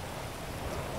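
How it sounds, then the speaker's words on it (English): Steady in-game rain falling in GTA 5, a continuous broadband hiss of drops on surfaces, fairly faint and even throughout with no talk over it. "It's raining."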